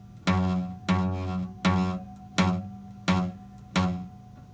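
Five separate guitar notes are picked one after another with the strings fretted too lightly, each with a dull, slightly buzzy tone that fades quickly.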